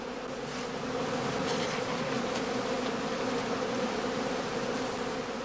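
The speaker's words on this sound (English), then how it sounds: "Bees which have flown away will collect in the winter skeps" Honeybees gather in winter straw skeps, a dense, continuous buzzing hum at moderate level with no voices.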